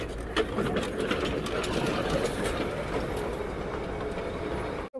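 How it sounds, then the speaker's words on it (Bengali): Darjeeling steam toy train running close by on its mountain line, a steady chugging, clattering rumble that holds loud and continuous for about five seconds before cutting off abruptly at the end. "কিন্তু দেখো স্টিম ইঞ্জিন চলে এসছে, এটাও কিন্তু আসবে।"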